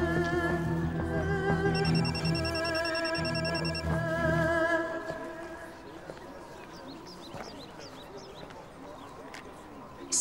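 Phone ringing with an incoming call in a Turkish TV drama scene, a loud repeating electronic ringtone up front for about five seconds, then fading out under background voices.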